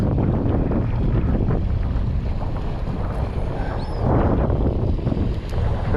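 Strong wind buffets the microphone in a steady roar on an exposed causeway in cold, rainy weather by the water, with no talking.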